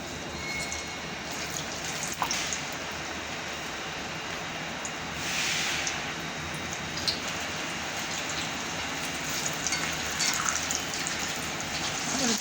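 Onion bhaji frying in a pan of hot oil, a dense, steady crackling sizzle close up that runs unbroken throughout with scattered small pops.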